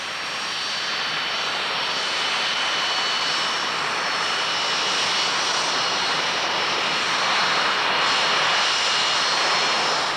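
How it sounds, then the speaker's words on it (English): A Provost trainer aircraft drones loudly and steadily through its landing, the piston engine's roar filling the whole stretch without a break and no voices over it. "He's landed the Provost unaided."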